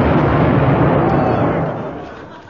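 A landmine explosion in a wartime setting: a loud, broad rumbling roar that holds steady and then slowly fades away. No voices are heard over it.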